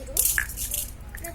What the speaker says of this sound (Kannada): ಈಗ ಅದಕ್ಕೆ ಚೂರು ನೀರು